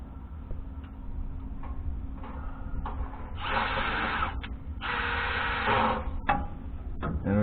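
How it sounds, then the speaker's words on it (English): A drill driver with a square drive bit drives a screw into sheet metal on a John Deere 9770, two whirring bursts of about a second each amid light clicks and handling noises. "I'm going to put a screw in there."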